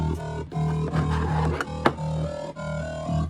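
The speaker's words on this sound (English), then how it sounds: "That's a triangle wave mode," A sequence of buzzy digital bass synthesizer notes in triangle wave mode plays loud and up front, separated by short breaks, with a few sharp clicks in between.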